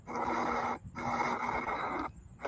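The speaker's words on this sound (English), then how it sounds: "Who's snoring?" Someone nearby snores in two long, rasping breaths with a brief pause between them, moderately loud against a quiet room.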